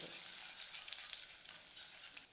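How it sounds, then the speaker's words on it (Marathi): Mustard seeds, cumin and garlic crackle and sizzle in hot oil, a bright, continuous frying hiss with quick little pops, close and steady. "मोहरी तडतडली जिरं घालूया"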